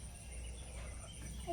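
A turkey gobbling faintly and briefly at a farmyard pond, under steady low outdoor rumble.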